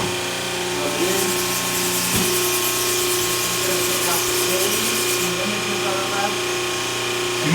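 A pump hums and rattles steadily during screen reclaiming in a screen-printing shop, a constant mechanical drone with a ratcheting buzz and spray hiss over it, and faint speech in the background.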